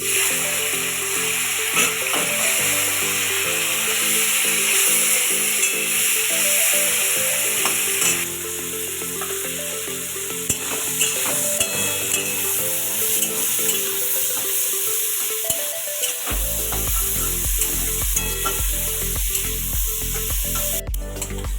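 Prawns frying in hot oil in a wok, a continuous close sizzle and hiss with stirring clatter, alone without talk, the texture shifting partway through.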